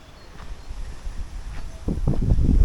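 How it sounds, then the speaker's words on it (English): A big gust of wind at a hilltop outdoor site by an old well at Carthage, a rising broadband rush buffeting the microphone that swells louder toward the end, with faint scuffs and no talk. "Oh, big gust of wind."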